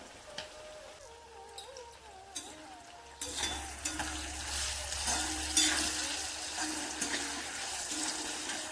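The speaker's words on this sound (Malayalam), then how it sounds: "കുറച്ച് പഞ്ചസാര ഇട്ട് കൊടുത്താൽ നമുക്ക് ഇഞ്ചി എളുപ്പം വറുത്തെടുക്കാൻ പറ്റും." Ginger frying with sugar in a pan for an Onam sadhya inji curry: a faint rustle of stirring first, then a louder, steady close sizzle with scraping stirs over a low hum, no talk.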